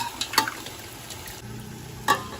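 Mutton tipped into frying tomato and onion for Hyderabadi tahari, with a couple of sharp spoon-on-pot clinks over a low, steady sizzle that picks up slightly after the meat goes in.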